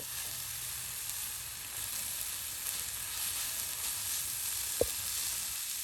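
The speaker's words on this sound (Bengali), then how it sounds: "এখন এই বাগার দেওয়া পেঁয়াজ রসুনের সাথে উলট পালট করে নিলেই একদম ঝরঝরে" Moringa leaves and mixed greens stir-fried with tempered onion and garlic in a village kitchen, giving a continuous even sizzle with one brief clink of a utensil near the end.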